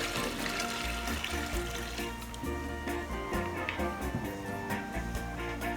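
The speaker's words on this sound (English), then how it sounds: "So we have the desired amount of liquid for our fish tea. Now strain it back into the pot." Jamaican fish tea broth is strained back into a pot, a close pouring and splashing of liquid with gurgling trickles running steadily for several seconds without talk.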